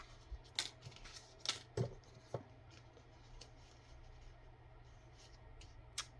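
Scissors snipping a paper flower out of a page, with a few soft, quiet cuts and paper rustles at close range.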